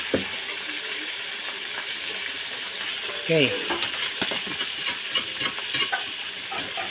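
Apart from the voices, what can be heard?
frying fish in a pan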